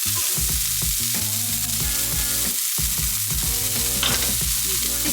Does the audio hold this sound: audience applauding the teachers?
no